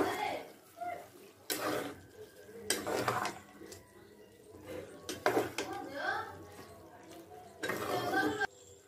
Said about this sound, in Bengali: দিয়ে ভালো করে নাড়িয়ে চাড়িয়ে দেব